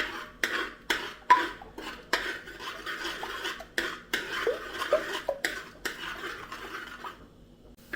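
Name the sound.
egg being scrambled in a pan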